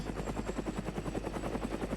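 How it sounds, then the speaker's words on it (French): Helicopter taking off in a video game, a steady rapid rotor chop pulsing evenly with a constant engine whine, loud and close with no talking. "Faire décoller votre hélico."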